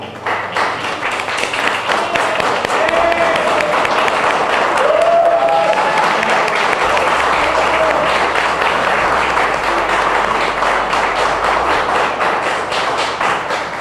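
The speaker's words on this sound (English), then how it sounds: "would you please stand so we could give you a nice round of applause?" An audience applauds grant awardees at a Lawrence Cultural Council event, a steady wash of clapping that holds loud and even throughout with no voices over it.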